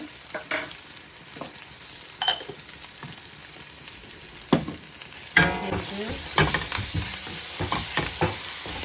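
Scattered spoon knocks against a pan, then sizzling swells and stays loud as stirring continues while salt is added; a voice briefly speaks.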